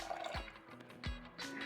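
Water pours into a pressure cooker holding washed lentils, heard as soft, quiet splashing and gurgling in a few short bursts.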